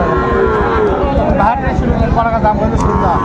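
Cattle at a cattle market in Magura, Bangladesh, including Sahiwal bulls, moo loudly and repeatedly at close range, their low drawn-out calls overlapping with people talking nearby.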